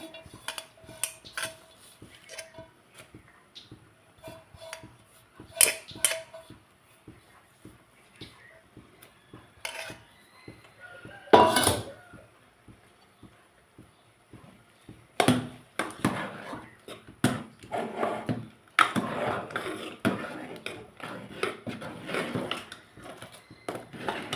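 Amaranth greens are chopped by knife on a board for a toor and moong dal sambar: a long run of steady, rhythmic close chops, then louder, busier clattering as they are added to the pot.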